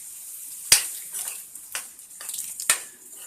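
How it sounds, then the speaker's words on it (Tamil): Tomato puree being stirred into capsicum and vegetables in a pan for Indian-style macaroni pasta: two sharp spatula clinks against the pan with soft scraping and wet shuffling in between, close by. "நல்லா சேர்த்து மிக்ஸ் பண்ணி விட்டுக்கோங்க."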